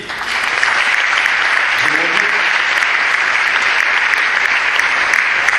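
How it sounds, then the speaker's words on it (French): An audience at a French research presentation claps in a dense, even burst of applause that builds quickly and holds loud to the end, with a brief voice briefly audible beneath it. "On peut les applaudir."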